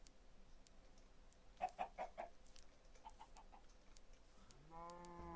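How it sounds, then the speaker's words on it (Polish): Chickens in the Minecraft video game cluck in a quick burst of four short calls, followed by a few softer clucks and then a brief harmonic squawk, all over a steady low hum of game background sound. "Chodźcie, kury."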